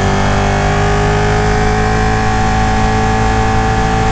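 A 2018 Ducati Panigale 959 motorcycle engine runs loud and close, a dense, steady droning growl that holds its pitch throughout with no voices over it.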